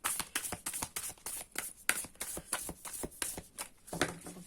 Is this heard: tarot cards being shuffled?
yes